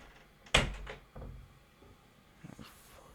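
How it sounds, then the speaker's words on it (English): A bedroom door closes with one loud sharp thud, followed by a softer knock and faint rattles fading into quiet. "can you close my door?"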